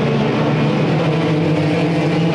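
Race cars roar together at a green flag restart during an enduro at Irwindale, a loud, dense wall of engine noise without breaks.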